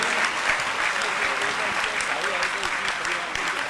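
An audience at a Jain religious discourse session claps with hands raised, a steady, dense round of applause held at a moderate distance with no pause.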